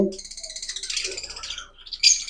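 Rapid high-pitched chirping and twittering from budgerigars, close by and continuous, with a sharper squeak near the end.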